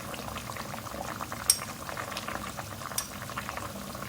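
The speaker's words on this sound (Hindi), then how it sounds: "दही डाल के भूनते जाएंगे।" Beef korma in a karahi bubbling and frying as whisked yogurt goes in, a dense, continuous close burble of boiling with a few sharp utensil clinks and no speech.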